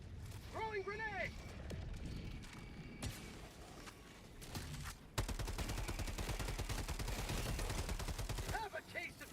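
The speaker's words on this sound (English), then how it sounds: "Throwing grenade!" Video game combat with a thrown grenade and bursts of gunfire: dense rapid shots and impacts fill most of the span, a heavy blast-like onset midway, with voices talking over the action.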